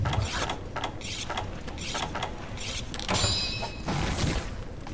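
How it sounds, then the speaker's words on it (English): Whetstone strokes on a greatsword in Monster Hunter 3 Ultimate arrive as a series of short, scraping bursts in a repeating rhythm, followed by a brief metallic ring. The sequence is fairly quiet and close, with no speech. "Take the opportunity to sharpen my greatsword."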